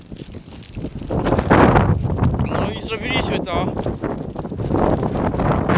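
Strong wind in about minus 5 degrees Celsius cold buffets the microphone with a constant roar as someone speaks briefly over it.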